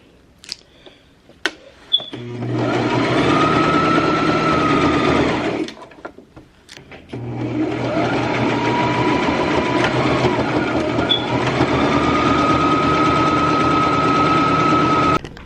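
A sewing machine stitching fabric runs in two loud, steady bursts of rapid mechanical whirring, separated by a short pause with a few clicks, all close up with no talking.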